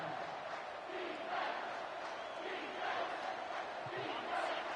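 A stadium crowd at a video game football match between Ohio State and Tennessee roars in a sustained, distant-sounding wash of cheering, with a commentator's voice faintly underneath.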